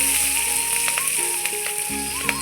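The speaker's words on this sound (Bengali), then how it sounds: "এবার ভালোভাবে একটু নাড়চাড় করে নিচ্ছি একটু রসুন আর লঙ্কাটা একটু লাল লাল হবে তখন অবধি আমি একটু ভাজবো" Green chillies and chopped garlic fry in a wok with a bright, even sizzle, set against a faint steady tonal hum.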